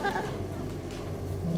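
A sheep brought in from a neighboring farm bleats in short wavering calls over a steady low rumble and background noise, fairly loud and close.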